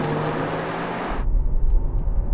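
A Brabus 700 Rolls-Royce launches from a standing start on the autobahn: a loud broad roar that shifts into a deep, heavy low rumble as the car pulls away, heard from inside and with no talking.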